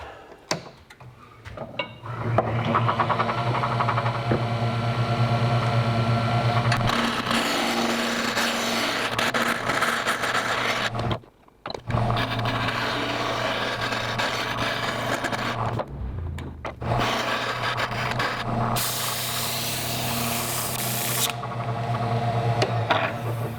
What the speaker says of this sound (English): There's just a lot of time savings by running them through the table saw.